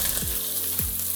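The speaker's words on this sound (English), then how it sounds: "we're going to cook off our frozen veggies" Frozen vegetables sizzle loudly and steadily in a hot pan, a dense, close frying hiss with no talking.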